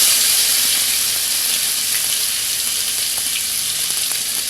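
Two tablespoons of onion paste frying in hot oil with panch phoron give a loud, steady sizzle and bright hiss that holds for several seconds, close by with no voices.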